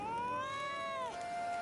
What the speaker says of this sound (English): Cat is hissing.